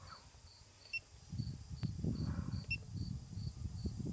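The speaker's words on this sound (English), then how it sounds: "Lots of insects right there." Faint, steady chirping of insects outdoors in shaded woodland in Appalachia, a thin continuous trill with soft rustling and low background noise beneath it.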